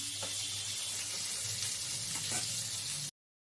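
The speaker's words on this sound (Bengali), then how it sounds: "ঝিঙে আলু ভাজা হয়ে গেছে" Ridge gourd and potato pieces sizzle and crackle steadily in hot oil, with occasional scraping stirs, close up and continuous before cutting off abruptly.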